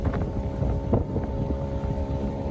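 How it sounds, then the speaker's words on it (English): Wind blows steadily across a sailing boat moving along the coast at Port Stephens, a continuous close roar and buffeting rumble with little change in level and no voices. "the wind is coming straight through here"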